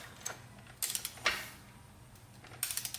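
Mechanical clicks from a torque wrench tightening the pulley nut on a Vespa GTV-300 scooter during belt and roller service, a few short bursts of ratcheting spaced through a quiet workshop, close and moderately loud, with no talking.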